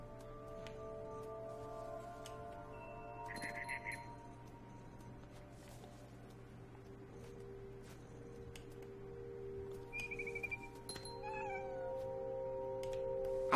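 A cat meows a few times in the video game What Remains of Edith Finch, faint short cries over steady ambient game hum and soft tones, with no talking.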